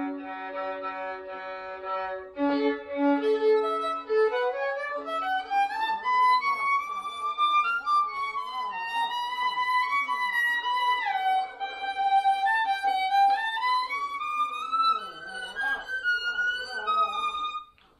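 A cheap Glarry violin is bowed with an under-rosined bow, giving thin, wavering notes that slide up and down in pitch. The sustained tone stays at a moderate level and plays alone.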